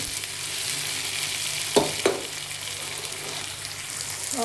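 Ingredients for pav fry in a pan as they are mixed, a constant hissing sizzle with a couple of spatula scrapes and knocks near the middle, close and alone without talking.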